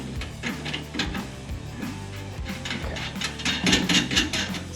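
A tap threads a hole in metal during a Foxbody Mustang battery relocation, making a repeated clicking ratchet-like rasp in short bursts at close range.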